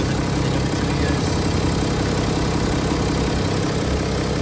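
A BMW 530d F10 diesel engine idles steadily with a low, continuous rumble and faint vibration, close by with no voices.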